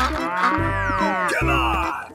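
A cow gives one loud, drawn-out moo with a rising and falling pitch. It carries through the whole short stretch at close range, alone and with no talk.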